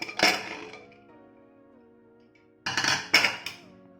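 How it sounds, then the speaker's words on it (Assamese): A pressure cooker of freshly cooked pulao being opened: a sharp metallic clank of the lid, a faint lingering ring, then a second burst of clanks and scrapes close by, with no talk. "এতিয়া সম্পূৰ্ণ প্ৰেছাৰটো যোৱাত মই কুকাৰটো খুলিব লৈছোঁ।"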